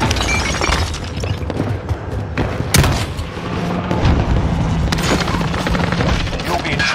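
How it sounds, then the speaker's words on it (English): Precision airstrike explosions in Call of Duty Warzone: a rapid run of sharp booms and crackling blasts with heavy low rumble, several loud bursts spread over a few seconds amid continuous battle noise. "Enemy precision airstrike."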